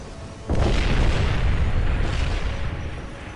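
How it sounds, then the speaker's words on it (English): A heavy boom erupts after a short lead-in and rolls on as a loud, dense rumble, in a Warhammer 40k: Dawn of War battle scene with Ork artillery fire and explosions. "We will silence that Ork artillery."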